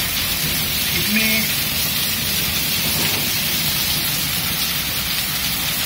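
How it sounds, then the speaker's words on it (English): Heavy hail mixed with rain pelts down in Guadalajara, Mexico, a dense, steady hiss of ice balls and raindrops striking surfaces that fills the whole stretch, with a faint voice briefly audible beneath it. "What an ice storm."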